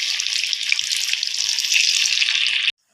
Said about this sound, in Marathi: आता छान वड्या तळून घ्यायच्यात आपल्याला फ्राय करून तेलामध्ये